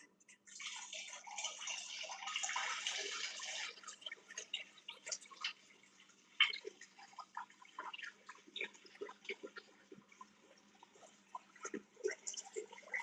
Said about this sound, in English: we're gonna open up our distilled water.